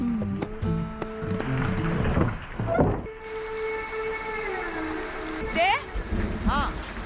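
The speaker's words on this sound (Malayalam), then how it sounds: "എനിക്ക് ഇടി ഭയങ്കര പേടിയാണ്." Heavy rain hisses steadily throughout, and a deep rumble of thunder rolls underneath. Music and a few voices sit over the storm, including a rising cry near the end.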